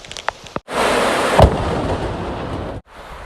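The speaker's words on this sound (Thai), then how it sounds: "ฟ้าผ่าทุกคน" Thunder from a storm in a forest, a sudden loud crash that rolls on for about two seconds before cutting off, with a few softer thumps just before it.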